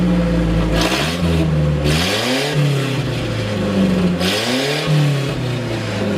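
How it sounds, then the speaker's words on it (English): A slammed minitruck's engine with an open downpipe and the catalytic converter removed revs loudly and up close, rising and falling through three throttle blips over a constant, raspy exhaust drone. "I'm going to rev it for you guys, because I know you guys are dying to hear this"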